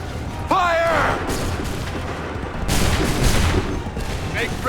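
A musket volley in Assassin's Creed III erupts as a sharp, dense crackle of many shots at once, followed by a rumbling echo under battlefield noise and shouting voices.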